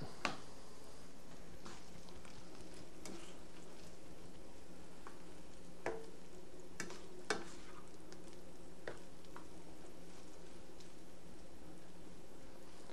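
Smoked salmon hash browns frying in a pan: a steady, quiet sizzle runs throughout, broken by a few small clicks and pops.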